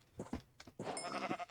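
Minecraft sheep bleat a few times in quick succession, close and clear, with wavering nasal cries.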